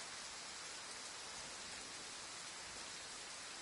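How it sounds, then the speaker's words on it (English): Heavy rain pours in a steady, dense hiss outdoors, a constant wash of noise with no breaks or voices. "it's raining worse"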